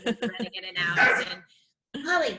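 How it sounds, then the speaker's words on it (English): A dog barks several quick, close yips at the start, then a person talks over continued whimpering and yapping, with a short quiet gap before more talking. "Sorry for the barking."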